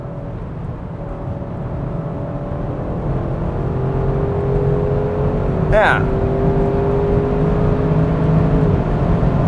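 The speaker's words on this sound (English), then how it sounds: "But it's just lovely, lovely, lovely V8." A 2021 Audi RS6 Avant with a V8 engine rumbles steadily from inside the car, a low droning exhaust note that builds gently, with one short spoken word midway.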